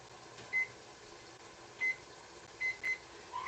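A kitchen timer is set with a handful of short, sharp electronic beeps spaced irregularly, clear and close over a steady low background hum, with no talking.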